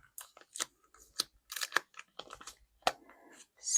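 Paper from a weekly planner setup is torn by hand, giving short, crisp ripping and crinkling bursts, close and fairly quiet, in a series of separate tugs.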